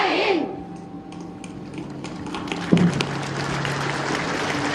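A crowd at a Bihar police passing-out ceremony claps steadily and loudly in a dense, sustained patter, with a brief louder burst midway and a voice faintly present underneath.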